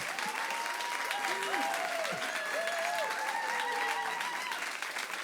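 A church congregation applauds warmly to welcome a couple at a family service, with sustained, dense clapping throughout and cheerful voices calling out over it.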